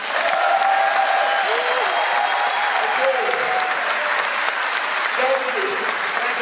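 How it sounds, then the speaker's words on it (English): Dense, steady applause from a convention audience of business team partners fills the space at full volume throughout, with a voice speaking briefly over it. "Give me an applause."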